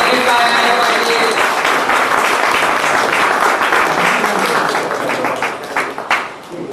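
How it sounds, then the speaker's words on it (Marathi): A crowd gathered at a school reunion after 45 years applauds in a loud, sustained burst that fades toward the end, with voices mixed into the clapping. "टाळ्यांच्या गजरात स्वागत झालं पाहिजे"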